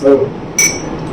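Glasses clink once in a sharp, ringing cheers toast at an Onam celebration with Old Monk rum, heard after a brief voice, over a low room murmur.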